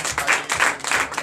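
Congregation applauding during a Sunday church service in Benin, a short burst of close, dense clapping in rhythmic pulses with no talk over it.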